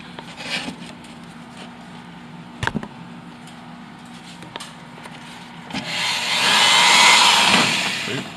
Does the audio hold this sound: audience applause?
no